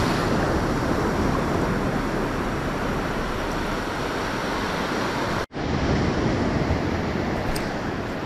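Ocean surf on a beach at sunrise washes in a steady, loud roar with wind buffeting the microphone, broken by one abrupt brief dropout partway through.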